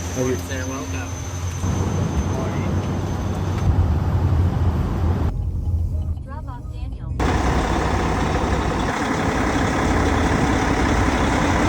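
A 2021 Kenworth W900 truck engine idles with a steady, close low rumble throughout, muffled briefly midway.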